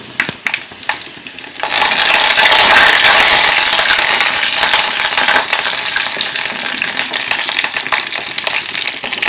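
Curry leaves hitting hot oil with mustard seeds and about four broken dried red chillies for Kerala erissery. A quiet stir swells into a loud, steady sizzle with crackling bursts close up.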